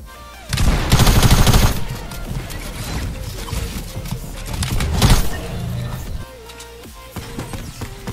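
Gunfire in the video game Fortnite: loud bursts of shots with crashing impacts, strongest around the first and fifth seconds and busy game noise between them.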